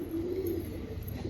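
A single pigeon gives a soft, low coo, close and fairly quiet, over a faint steady background hiss.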